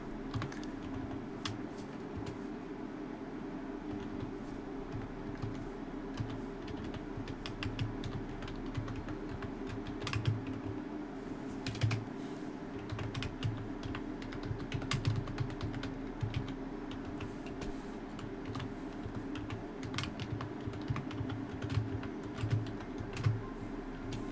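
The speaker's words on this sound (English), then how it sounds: "I'm typing something out right now." Steady typing on a computer keyboard, quick irregular key clicks close to the microphone running the whole time, with a low background hum and no talking.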